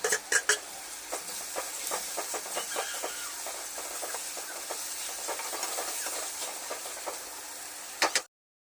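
Tomato pieces fry in a pan with green chilli, a continuous close crackling sizzle dotted with small pops and stirring scrapes, ending abruptly.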